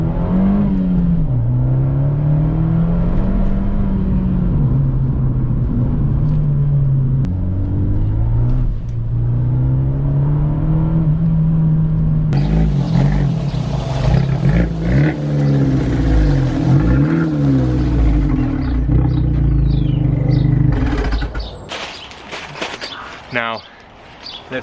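A 2016 Abarth 124 Spider with no particulate filter revs repeatedly, its engine note rising and falling through several loud, close sweeps before settling and cutting out near the end.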